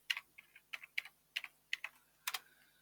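Quick bursts of keystrokes on a computer keyboard, clicking in short uneven clusters at close range with brief pauses between, while a search phrase is entered. No one speaks.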